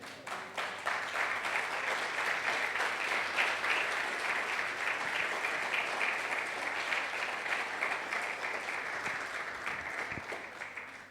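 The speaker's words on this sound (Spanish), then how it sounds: "Dale un aplauso a Cristo." Sustained applause from a large church congregation, steady and dense for several seconds before tapering slightly at the end.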